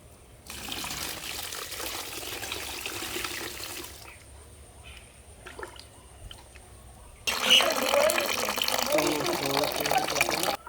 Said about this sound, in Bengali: এতে লাগবে 10 লিটার এমনি পুকুরের জল।